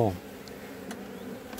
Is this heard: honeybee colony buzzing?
yes